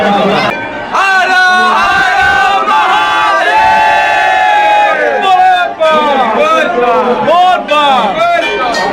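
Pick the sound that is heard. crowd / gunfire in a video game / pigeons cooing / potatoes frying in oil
crowd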